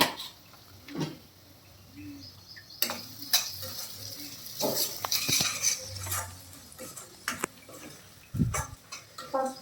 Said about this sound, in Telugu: ఇంకా ఆనియన్స్ ఇట్లా ఫ్రై అయితే సరిపోతుంది